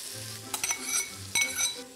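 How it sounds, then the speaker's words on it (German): A soft, steady sizzle of chicken curry frying in a pan, with a couple of light clinks from a utensil stirring. "Und dann wird es schön brutzel, brutzel machen"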